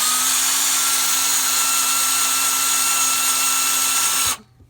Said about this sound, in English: So I'm going to take the drill, and you find the mark, and you drill in.